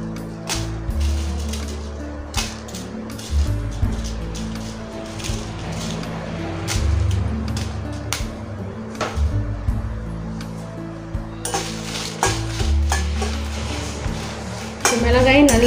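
Dry red chillies roast in a pan for paruppu podi, stirred with a metal spoon that scrapes and clinks against the pan over a steady low kitchen hum, with a louder clatter near the end.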